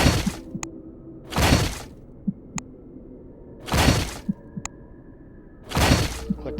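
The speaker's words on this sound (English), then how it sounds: "Take your axe, smash the crate 4 times" Axe smashing a wooden crate in a video game, four loud bursts of breaking wood spaced about two seconds apart, with small clicks between.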